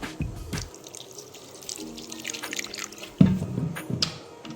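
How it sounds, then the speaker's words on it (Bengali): A little water poured into a blender jar while making a rui posto paste in a home kitchen, a short splashing trickle with a few drips and clinks of the jar, close and fairly quiet. "এবার আমি এতে কিছুটা জল অ্যাড করব, সামান্য পরিমাণে দেব জল"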